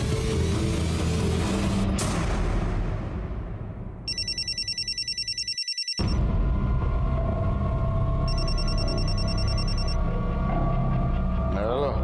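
A telephone rings late at night in a crime drama scene, giving two separate bursts of bright electronic ringing over a constant low hum of room and traffic noise.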